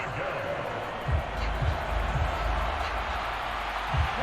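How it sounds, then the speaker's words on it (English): Stadium crowd noise from the Madden 25 football game, Green Bay Packers vs. Los Angeles Rams, with a broad steady roar beneath commentary spoken over it. "Crowd getting in it a bit already."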